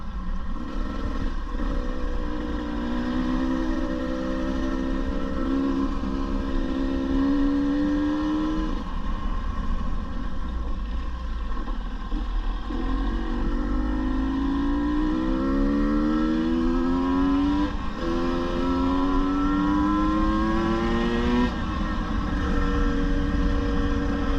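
A 2022 KTM 150 TPI two-stroke motorcycle engine runs steadily, its pitch rising and falling through repeated revs and gear changes over a constant loud drone, with no talking.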